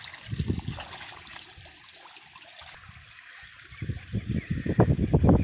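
Rainwater trickles and splashes in a village at the start of the monsoon, a steady watery wash with louder splattering bursts near the start and end.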